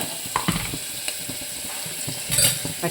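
Mustard seeds, urad dal and cumin sizzling and popping in hot oil for an idli sambar, with sharp crackles and small bursts over a steady fizz.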